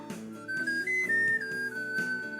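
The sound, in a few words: flute playing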